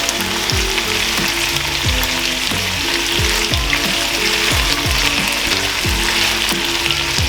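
Lemon pepper chicken frying in a pan, a loud, steady sizzle throughout with regular scraping strokes from stirring.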